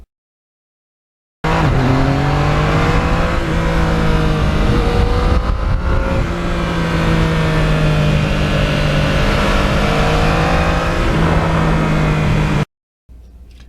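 A 2020 Yamaha MT-09 motorcycle engine held at wide-open throttle while leaning through a bend, a loud sustained high-revving roar with rising and shifting pitch, heavy wind rush, and a sudden cut at the end.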